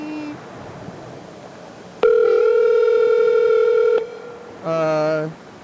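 A telephone dial tone holds steady and loud for about two seconds, then cuts off; after a short pause a brief burst of higher stacked tones sounds, all close and clear with no talking.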